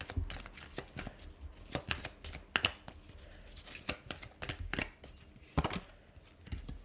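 Tarot cards shuffled and drawn by hand, a string of soft riffling flicks and slaps in irregular bursts, close and fairly quiet with no voices.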